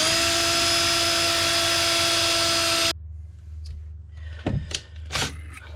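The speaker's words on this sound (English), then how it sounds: "A little crappy screw, machine screw in there, and sandpaper, and just spin it." A power drill spins a machine screw wrapped in sandpaper to sand a part for a 1995–96 Sea-Doo XP jet ski: a steady, loud whining hum for about three seconds, then it cuts off, followed by scattered handling clatters.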